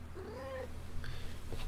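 A kitten gives a short, soft meow with a gliding pitch, followed by faint chirps and small rustles against a low steady hum, close to the microphone and with no talking.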